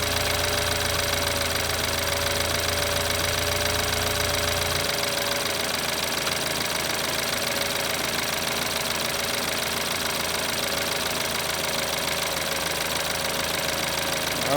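A hot BMW N20 engine runs just after a timing chain installation, a loud, steady idle with a dense mechanical clatter throughout, close up.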